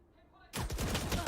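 A burst of rifle fire from the Valorant video game, loud continuous rapid shots from several guns that erupt suddenly after a brief quiet lead-in.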